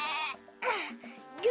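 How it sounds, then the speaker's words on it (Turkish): A goat in an animated children's cartoon bleats three times in quick succession, loud, close and quavering, with short pauses between calls. "Keçi."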